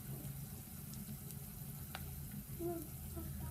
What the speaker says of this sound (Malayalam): ഇപ്പോൾ ഉള്ളി ഒരു മുക്കാൽ ഭാഗം മൂപ്പായിട്ടുണ്ട് ഇനി നമുക്ക് ഇനി അതിലേക്ക് നമുക്ക് ഇഞ്ചി വെളുത്തുള്ളി പച്ചമുളക് വേപ്പില ഇവ ഇട്ട് കൊടുക്കാം